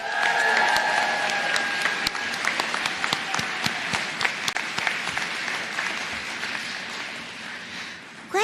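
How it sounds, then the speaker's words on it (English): A commencement ceremony audience of graduates and supporters breaks into sustained applause, a dense, steady wash of many hands clapping that stays loud throughout, with a few sharper claps and a faint voice near the start. "Join me in extending a round of applause to all of those who supported you"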